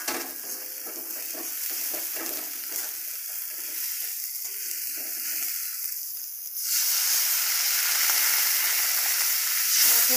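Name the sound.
water added to sizzling fried spice paste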